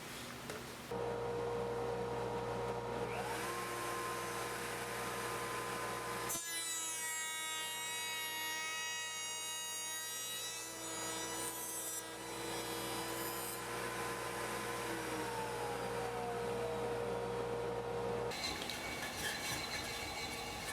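A router table spins a bit through wood and into a sacrificial backing board, giving a steady high whine with a shifting, rasping cutting texture that runs continuously for about twenty seconds at close range.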